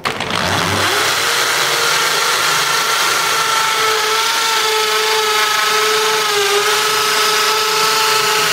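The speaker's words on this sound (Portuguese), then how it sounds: "Agora é martelete" Rotary hammer drilling continuously during repair of a dog kennel after a dog broke through its grate, a loud steady mechanical roar with a shifting whine, alone without talk.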